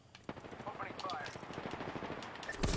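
Gunfire in the video game Apex Legends: a rapid burst of automatic shots, close and fairly steady, with game voice chatter mixed in and a louder blast at the end.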